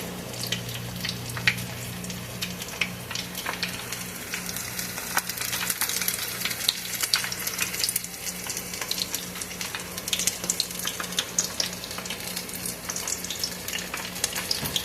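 Beer-battered onion rings bubble in hot oil with a steady crackling sizzle, loud and close throughout, over a faint low hum.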